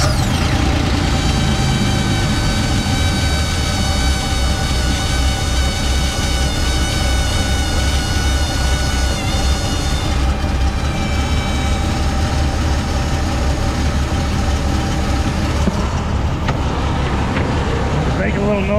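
A Volvo Penta 4.3 liter V6 marine engine runs steadily and loud throughout, a dense low rumble with tonal whine that shifts slightly partway through.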